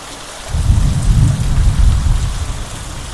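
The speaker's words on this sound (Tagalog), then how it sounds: "So guys, here is so strong raining." Heavy rain pours down at night in a dense, continuous roar, with a deep low rumble building under the steady hiss of the downpour.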